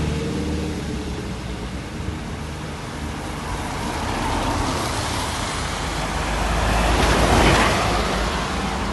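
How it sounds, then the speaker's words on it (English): Steady road traffic behind a narrow walkway in Phuket during rain, a broad continuous rushing wash that swells louder toward the end, with no talking over it. "And that's traffic behind us."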